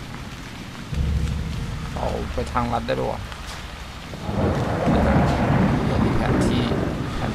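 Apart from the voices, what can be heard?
thunder and rain in Haunt video game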